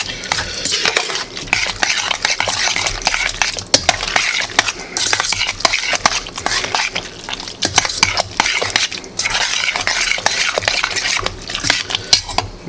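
Creamy macaroni and cheese being stirred in a pot, loud close clanks and scrapes of a utensil against metal, with sticky squelching and a faint sizzle between strokes.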